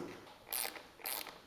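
A T25 Torx bolt being backed out of the driver's-side seat switch plate on a 2017-2020 Ford F150 Raptor, two quiet, brief ratcheting clicks close by in an otherwise hushed space.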